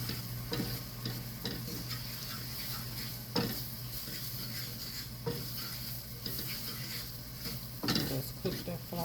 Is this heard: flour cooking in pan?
yes